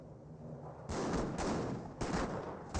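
Bursts of gunfire from the real-time strategy game Company of Heroes, rapid rifle and machine-gun shots in several loud clustered volleys with brief gaps between them, no voices.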